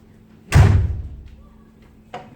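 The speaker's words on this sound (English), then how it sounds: "Actually, 1 second, I'm going to slam the door." A door slams shut once, loud and close, with a short resonant thud that fades, followed by a faint knock a moment later in an otherwise quiet room.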